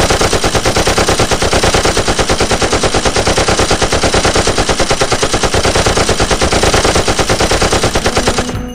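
Sustained automatic gunfire from a Sakura School Simulator game, rapid and evenly spaced bursts running nearly nine seconds without pause, loud and dense before cutting off abruptly.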